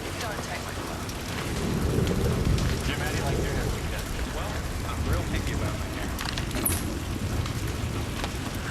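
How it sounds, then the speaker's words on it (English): Steady rain drumming on a roof with low rumbling thunder from a sleep sound machine, a dense continuous wash that stays fairly loud throughout, with no talking. "How about the rain on the roof?"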